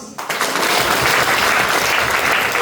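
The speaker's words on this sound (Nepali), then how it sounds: "सभी लोग ताली बजाओ." A crowd at a deliverance ministry gathering in Kanchanpur, Nepal breaks into loud applause after a sharp onset, dense continuous clapping from many people filling the space and holding steady to the end.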